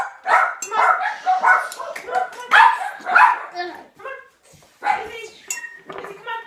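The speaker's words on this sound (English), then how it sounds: "The dogs got out of the laundry room." Several dogs barking and yipping indoors in a home kitchen, repeated sharp barks in clusters, fairly close and loud, with a brief lull before more barking.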